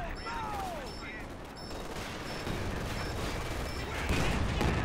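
Sustained gunfire in a World War II tank battle video game, with a machine gun position firing amid a continuous dense rattle of shots and booms. A voice talks briefly over the noise.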